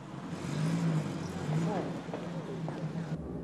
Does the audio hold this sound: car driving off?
yes